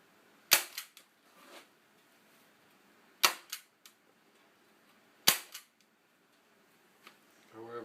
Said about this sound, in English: just every 4 or 5 inches or so, just put a staple in it.